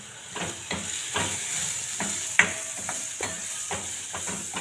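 A spoonful of turmeric stirred into a sizzling pan for methi and palak kadhi, with a spoon scraping in repeated strokes over a steady close frying hiss and one sharp clink of metal.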